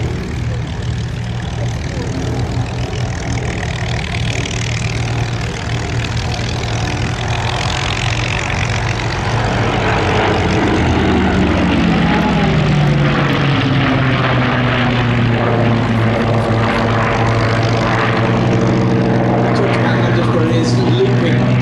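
A P-38 Lightning twin-engine propeller fighter flying at the Sywell Airshow, a loud droning engine roar that swells and shifts pitch in a Doppler sweep as it passes, with a commentator talking over the public address.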